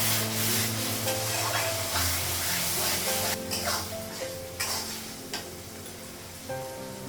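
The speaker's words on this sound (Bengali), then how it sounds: "লবণ, মশলাটা একটু ভেজে নেব" Salt and spices fry in a pan with a steady, hissing sizzle that stays loud throughout, broken by a few sharp clicks and faint tonal sounds in the background.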